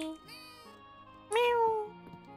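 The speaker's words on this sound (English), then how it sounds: "Meow!" A cat meowing in the video game Fields of Mistria: two clear meows, the second louder and longer, heard close over soft background music.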